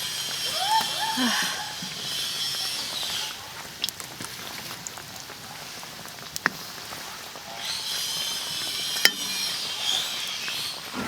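Pumpkin cakes deep-frying in hot oil give a steady crackling sizzle with faint bubbling, occasional sharp ticks and pops, and close kitchen clatter throughout.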